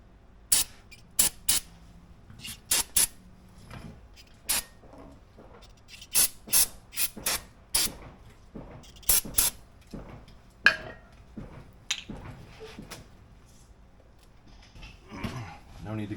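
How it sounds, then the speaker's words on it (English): Brake cleaner aerosol sprayed on Cadillac SRX brake parts: a series of short, sharp hissing bursts, some in quick pairs, with quieter handling noises between and a voice speaking near the end. "Brake clean."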